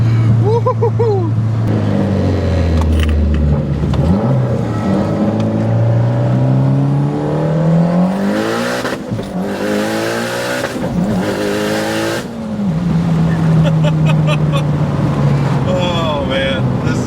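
A Mitsubishi Lancer Evolution X fitted with full bolt-ons accelerates hard on a test drive, its engine note rising steeply through the gears with brief lulls at the shifts, loud and close, as people talk and whoop inside the cabin.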